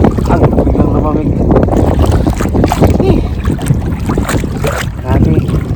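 Strong, gusty wind buffets a small boat out on the water during crabbing, a steady loud rush with water sloshing and wind noise on the microphone; voices talk over it.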